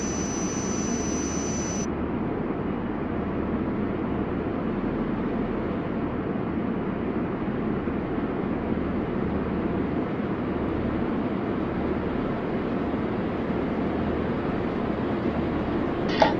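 A jet airliner takes off at JFK with a steady, broad engine roar that holds loud and unchanging from start to finish, heard from a distance, with no voices.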